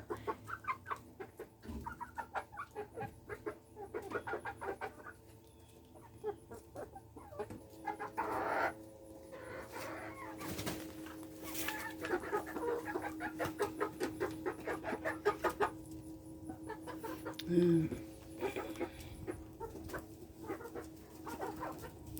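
Backyard chickens cluck and chatter close by in a long, busy stretch of overlapping calls, with a few louder squawks and a brief dog-like bark mixed in.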